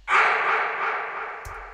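A scream vocal sample from a hard techno track, one sustained harsh shriek that swells fast and trails off slowly over almost two seconds, loud and alone, with a short click near the end.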